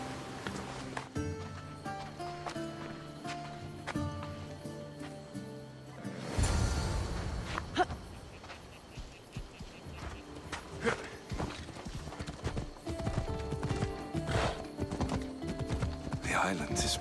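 Horse hooves clip-clop steadily while riding in Assassin's Creed Odyssey, under a musical score that swells midway, with the gait continuing at a moderate pace throughout.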